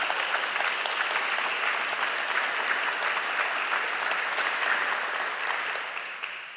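An audience applauds Professor Francisco Aragon with a sustained, dense clapping that holds steady and then tapers slightly at the end.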